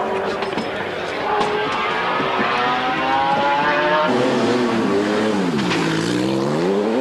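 GT race cars, including McLarens, race at Donington in 1995, engines revving and shifting with rising and falling pitch as they pass, while a commentator talks over the loud motor noise.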